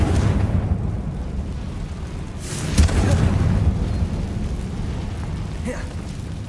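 Bombarda and Confringo spells explode in Hogwarts Legacy: rumbling magical blasts over a dense game soundscape, with one sharp, louder burst standing out midway.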